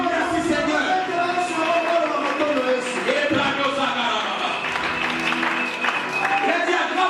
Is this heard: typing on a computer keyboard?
no